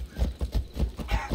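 Horse hooves clip-clop in a steady galloping rhythm while riding in the video game Assassin's Creed Odyssey, a quick run of about six close, distinct hoofbeats.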